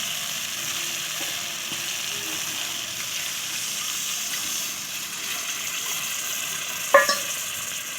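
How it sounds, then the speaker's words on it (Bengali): Pointed gourd and potatoes frying and being stirred in a pan make a steady low sizzle throughout, with a few faint utensil scrapes and a brief sharp clink near the end. "আমি খুব ভালো করে পটল আলু সব ভালো করে কষে নিয়েছি"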